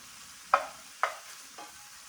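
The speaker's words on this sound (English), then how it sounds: "I'm going to cook this on medium-high heat in the 2 tablespoons of olive oil" Cajun chicken pieces frying in two tablespoons of olive oil over medium-high heat, giving a steady close sizzle with four sharp bursts of spatter as pieces are moved or turned.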